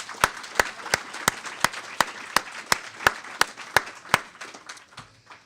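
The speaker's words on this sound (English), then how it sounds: "Yeah, another round of applause." Audience applause at a symposium, with sharp, evenly spaced claps standing out in a steady rhythm over a softer bed of clapping for about five seconds, then trailing off.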